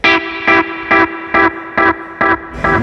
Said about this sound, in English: So now you're getting 600 milliseconds of delay,